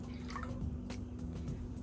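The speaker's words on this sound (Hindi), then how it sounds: "आपको लेना है एक पैन और इसके अंदर इस वाटर को आपको ऐड कर देना है।" Water that soaked seeds overnight is poured into a pan in a home kitchen, making a steady, close liquid pouring and trickling sound with a few drips for under two seconds.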